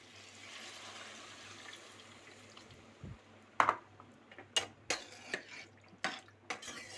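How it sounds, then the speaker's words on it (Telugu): Tamarind juice is poured into a pan of papaya curry, making a soft, steady liquid pour for a few seconds. Sharp clinks and scrapes of a utensil against the pot follow. "ఇప్పుడు ఇందులోకి చింతపండు పులుసు పోసుకుందాము"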